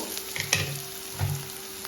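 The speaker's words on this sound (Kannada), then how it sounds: "ಸ್ವಲ್ಪ ಈರುಳ್ಳಿ ಕಲರ್ ಚೇಂಜ್ ಆದರೆ ಸಾಕು" Onions frying in a pan for palak dal, a low steady sizzle with a couple of soft stirring knocks, close and fairly quiet with no talking.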